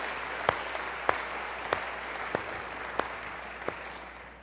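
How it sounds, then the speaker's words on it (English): Steady audience applause at a school talk for middle school musicians, a continuous hiss of many hands with a few louder individual claps standing out at regular intervals, heard alone. "Let's give a round of applause for our musicians from Logan Middle School."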